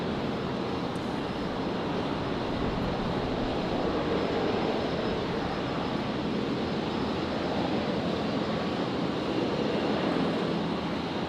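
An airliner taking off from runway 01 left at Brisbane airport, a loud, steady broadband jet roar that holds constant throughout with no talk over it.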